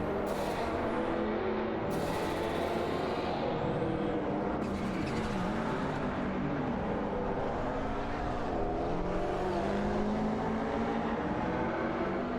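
Race cars in a racing video game, including a BMW and a Porsche 959, a continuous layered engine roar with shifting pitch as cars accelerate and pass, loud and sustained throughout.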